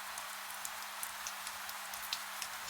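Steady night rain hisses evenly throughout, with scattered soft drips and taps over a constant wash, used as an eerie horror-story backdrop; no voices.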